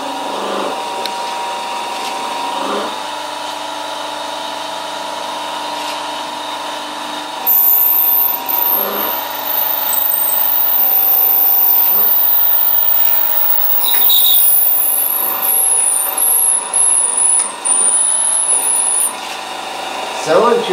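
Center drill spinning into a tobacco pipe, a continuous loud motor drone with steady tonal hum, a high squealing note and brief grinding bursts mid-clip as the bit bites in, with a voice speaking intermittently.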